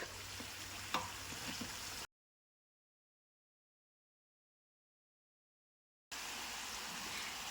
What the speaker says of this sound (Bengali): একটু পর পর উল্টিয়ে পাল্টিয়ে নাস্তাগুলি খুব ভালোভাবে ভেজে নিতে হবে